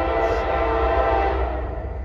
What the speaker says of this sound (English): I think the train's here.